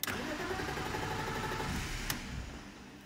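A BMW E46 320i with the M52 engine cranks after a fuel filter replacement, a dense continuous churning of the starter motor that fails to catch, with a click partway through before the cranking fades out.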